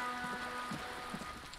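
Rain falls steadily through the city of Revachol in the Disco Elysium video game, a constant hiss with soft low patters and a faint tonal hum beneath it.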